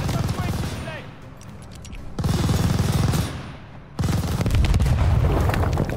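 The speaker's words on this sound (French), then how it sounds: "Éliminez-moi cette mitrailleuse. Envoyez une grenade." Gunfire and booming blasts rip through a battle in Call of Duty: Vanguard, in loud bursts separated by short lulls, with voices talking between and over the bursts.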